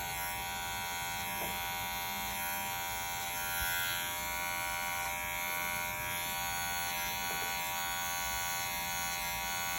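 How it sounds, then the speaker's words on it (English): Electric hair clipper buzzing steadily during a haircut lesson on feathering, a continuous close electric hum with no talk over it. "This you do with a clipper."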